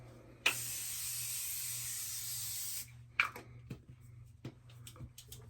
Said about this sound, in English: I'm going to take a little bit of this Morphe setting spray and set this face.